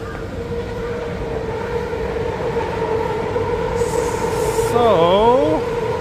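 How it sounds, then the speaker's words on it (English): A train rumbles loudly overhead on an elevated track in Tokyo during an evening street walk, a steady roar building over six seconds, with squealing wheels rising and falling near the end. "now we're passing under the train track, so it's a bit loud."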